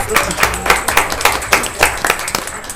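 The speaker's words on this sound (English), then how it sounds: "Let's give Ms. King a round of applause" Applause at a Clayton County Board of Commissioners regular business meeting: a room of people clapping in fairly steady, overlapping bursts for a few seconds, with voices audible underneath.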